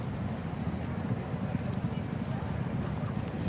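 Racehorses gallop along a racecourse with a loose horse running ahead, a dense, continuous drumming of hooves under a constant roar, with a race commentator's voice running over it.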